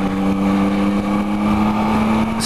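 A Yamaha MT-09 motorcycle revs under acceleration: a loud, steady engine drone with a strong low tone holding throughout, close to the microphone, with no one talking over it.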